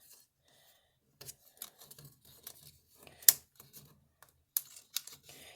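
Scissors snip paper for a Marie Antoinette–style shoe box, a few sharp close cuts and rustles scattered irregularly among quiet gaps.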